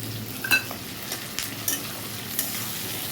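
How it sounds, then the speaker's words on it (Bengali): Onion, capsicum and tomato fry together in a pan for chilli chicken, a steady close sizzle with a few light scrapes and clinks from stirring. "সব একসঙ্গে ভালো করে ফ্রাই করব"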